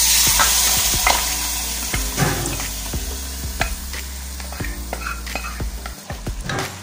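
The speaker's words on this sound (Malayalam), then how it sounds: "മസാലയൊക്കെ ഒന്ന് മൂത്ത് വന്നിട്ടുണ്ട്. നമുക്കതിലേക്ക് ബീഫ് ആഡ് ചെയ്ത് കൊടുക്കാം." Beef being stirred into browned spice masala in a pan for Kottayam-style kappa biriyani, sizzling steadily throughout with repeated scrapes and clinks of a spoon against the pan, close and fairly loud.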